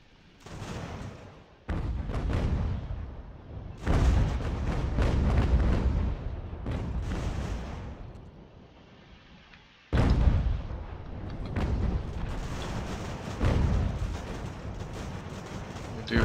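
Artillery and musket fire in the strategy game Ultimate General: American Revolution, heavy booming volleys rolling in long dense bursts with a quieter lull midway before the barrage resumes, loud and continuous.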